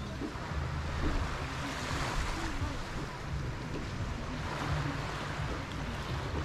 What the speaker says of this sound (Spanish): Pegados a la playa